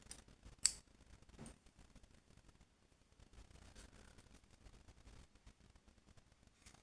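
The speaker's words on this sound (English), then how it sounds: "just cut your yarn long enough to stitch the hole closed" A single sharp scissor snip cutting crochet yarn, close and brief, followed by quiet handling rustles and faint tapping with no talking.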